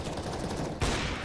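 Gunfire in CS:GO, a steady, dense stream of loud shots, close and unbroken, with a heavier blast hitting near the end.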